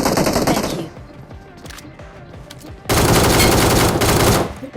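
Automatic gunfire in BGMI (PUBG Mobile), two loud sustained bursts of rapid shots separated by a quieter stretch of scattered single shots and clicks.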